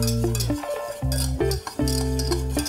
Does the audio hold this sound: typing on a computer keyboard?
no